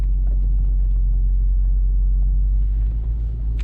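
A 2009 Lexus IS-F's engine hums with a steady, deep low rumble from inside the car as it drives off, loud and constant with no talking over it.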